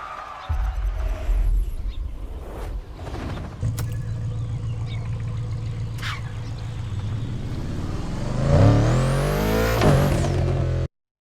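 Ferrari LaFerrari road car engine in the racing video game The Crew Motorfest, a steady loud drone that swells into a sharp rising rev near the end before cutting off abruptly.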